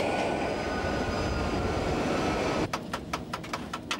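A CC 72000 diesel locomotive turns over as it starts: a steady broadband hum gives way to a rapid series of sharp rhythmic chuffs and knocks as the engine catches.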